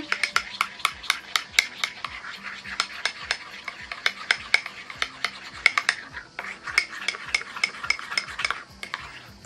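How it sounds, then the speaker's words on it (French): A homemade slime mixture with baking soda and salt stirred in a bowl, producing rapid repeated close scraping and clicking strokes of a utensil against the container, with no voice. "Allez, on remélange."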